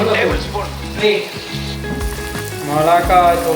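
Turmeric, chilli and Kashmiri chilli powder sizzle in hot oil for beef biryani, a crackling hiss running underneath a person talking.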